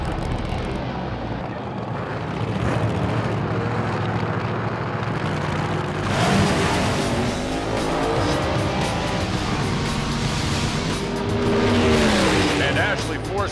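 Drag racing cars launch from the starting line, a loud roaring rush of engine noise that swells and surges as they pull away, with an announcer talking over it.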